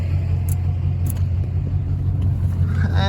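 A long-bed pickup truck fitted with new Dynomax Race Bullet mufflers idles with a deep, steady rumble close by, the exhaust note holding even throughout with a slight rise toward the end.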